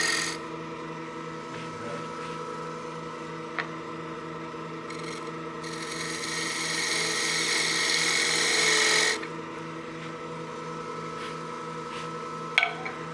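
A woodturning lathe runs with a steady hum while a tool cuts a taper off a turned wooden utility box, with a brighter, harsher cutting hiss for a few seconds in the middle before it eases off.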